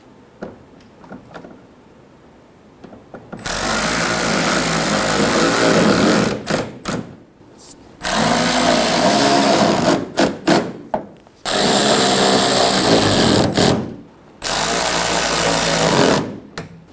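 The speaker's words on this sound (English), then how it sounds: "Install the screw at the bottom of the wheel well" A power driver runs a screw into the plastic rear wheel well panel of a 2005-2015 Toyota Tacoma, with four loud, steady whirring bursts of about two seconds each, separated by short pauses.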